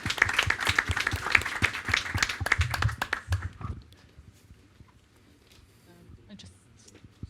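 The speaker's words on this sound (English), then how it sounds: "A round of applause, I think, for our first ones here." An audience at a sports and health congress session claps in a lively burst of applause for about four seconds, then it stops abruptly, leaving quiet room sounds and light murmuring.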